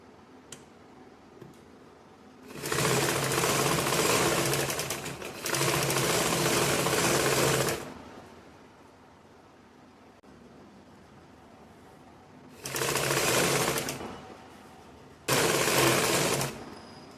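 Sewing machine stitching a blouse's lining back panel, running in four bursts of steady whirring, two long runs close together, a pause, then two shorter runs, loud and near with no talk.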